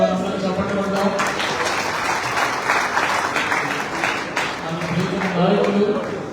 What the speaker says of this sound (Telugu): ఉత్సాహంగా ఉన్న వారందరూ చప్పట్లు కొడదాం.